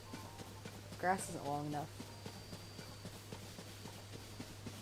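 Hoofbeats of a fleeing horse in Zelda: Tears of the Kingdom, a quick clip-clop that fades, with a short burst of talk early on and a steady low game hum throughout.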